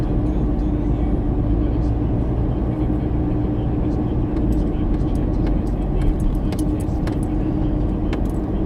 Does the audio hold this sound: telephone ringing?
no